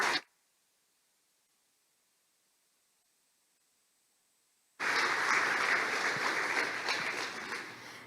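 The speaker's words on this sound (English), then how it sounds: "Can we get a round of applause for MMS and our custodial staff" After a brief sound at the start and several seconds of near silence, a full round of applause from the audience at a school awards ceremony breaks in and continues steadily to the end.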